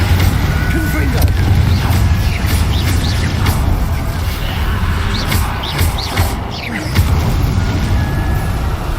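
A Confringo blasting spell goes off in a wizarding game, its explosive boom buried in a dense, loud rumble of low-end noise and scattered crackles that run throughout, with no voices.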